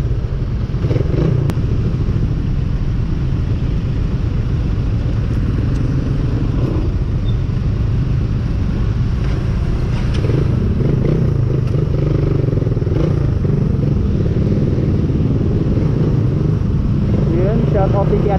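A Raider 150 motorcycle engine drones steadily and loud while riding through traffic on Shaw Boulevard, with wind rumble and clatter throughout and a person talking over it.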